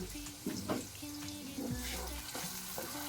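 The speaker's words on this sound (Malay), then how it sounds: "bahan kisar tadi, kita tumis sehingga dia wangi lah" Ground spice paste with lemongrass, galangal and ginger fries in hot oil with a soft, steady sizzle, and quiet stirring scrapes cut in now and then. The sound is faint and close, with no voices.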